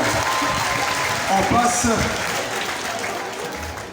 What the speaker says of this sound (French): Sous vos applaudissements encore